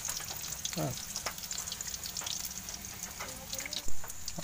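Banana blossom patties frying in hot oil in a home kitchen, a steady soft sizzle with small crackles and a brief scrape or clatter near the end, quiet and close with faint voice-like sounds.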